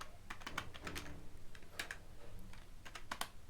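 Quick, light keystrokes on a computer keyboard come in short bursts of clicks while React code is entered, close and fairly quiet, with no talking.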